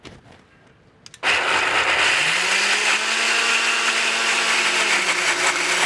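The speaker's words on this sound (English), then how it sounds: "just blend this until it makes a nice thick paste" Countertop blender whirring steadily as it purees herbs with olive oil into a thick paste, kicking on loud and close after a second of quiet and running continuously, its motor pitch settling slightly lower under load.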